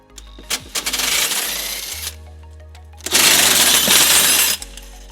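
Two loud bursts of ratcheting, rattling metallic clatter from a 17mm socket removing tow hook bolts on a 2013 Toyota RAV4, close up with a low hum between them.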